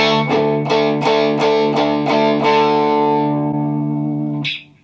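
A single distorted electric guitar power chord rings out loud and sustained for about four seconds with shimmering effects, then cuts off abruptly.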